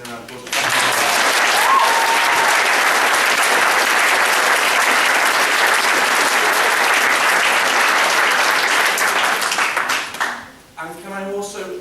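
A school concert audience bursts into applause after a short lead-in, a loud dense crowd of clapping that holds steady for about ten seconds, then tapers off as a voice starts talking.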